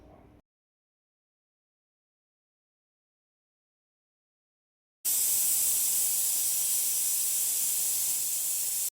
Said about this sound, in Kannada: ಲಿಡ್ ಕ್ಲೋಸ್ ಮಾಡಿ ಒಂದು ವಿಷಲ್ ಕೂಗಿಸ್ಕೊಳ್ಳಿ.